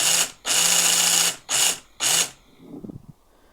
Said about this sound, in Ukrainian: Так, пилка зараз працює.